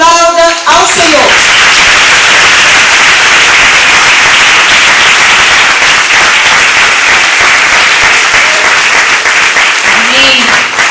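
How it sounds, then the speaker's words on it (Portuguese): A church congregation at a communion service claps loudly and continuously, a dense close wall of applause that begins right after a sung or spoken voice and holds steady throughout, with voices briefly audible near the end. "aplauda ao Senhor"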